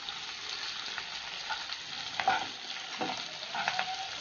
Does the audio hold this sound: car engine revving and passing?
no